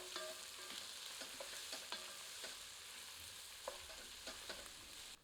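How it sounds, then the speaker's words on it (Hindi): Chopped onions frying on high heat in oil, stirred with a ladle, a constant close sizzle broken by sharp clicks and scrapes of the ladle against the pan, with no voices. "अच्छे से करछी चलाकर इसे 2 मिनट तेज आंच पर भूनते हैं।"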